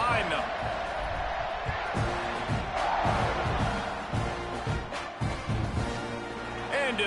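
In the College Football 26 video game, a packed Texas A&M stadium crowd roars steadily at kickoff against Kentucky, a thick continuous din with scattered thumps and whoops and a commentator speaking over it.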